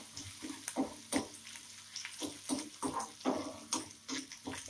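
Cumin, garlic and ginger-chili paste sizzling in hot oil while cooking rajwadi mung beans: a soft, steady crackle with a string of sharp pops and taps, fairly quiet and close, no voices.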